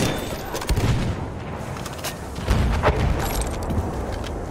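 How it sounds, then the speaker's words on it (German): A grenade blast and gunfire in the video game Battlefield 1 on the Amiens map: dense, continuous battle noise with two heavier booming hits among rattling shots, loud and close, with no clear speech. "Granate ist raus! Köpfe runter!"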